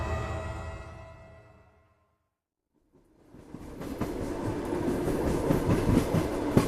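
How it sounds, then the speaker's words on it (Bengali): A sound effect of the Coalfield Express train running, a fading tone dropping into brief silence, then rhythmic clickety-clack of wheels on rails building into a steady, loud rumbling rush. "ছুটে চলেছে কোল্ডফিল্ড এক্সপ্রেস।"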